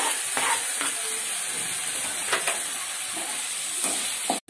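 Tomatoes sautéing in a pan for a fish curry, making a steady loud sizzle and hiss throughout with a few faint stirring scrapes underneath, close by and without voices.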